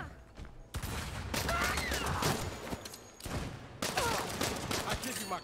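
Rapid pistol shots from the Saints Row video game crackle in several bursts, fairly loud against a busy game soundscape with brief pauses between volleys.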